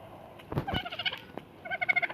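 A dodo in the video game Ark gives a burst of gobbling, turkey-like clucks, two short bursts with a brief gap, close and clear, with no talking over it.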